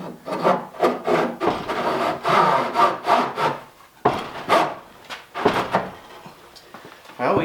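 A wooden axle is shoved and scraped through aligned holes in a wooden workbench, making a run of rough rubbing, grinding strokes in uneven bursts, close up, with a brief pause midway before more scraping.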